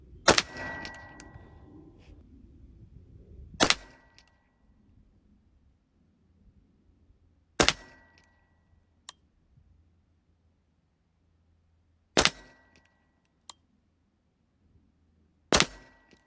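Five sharp, loud rifle shots from a Daniel Defense DDM4 PDW fired outdoors at a target, spaced roughly four seconds apart, each a crisp crack with brief echo, with a faint metallic ping between some shots.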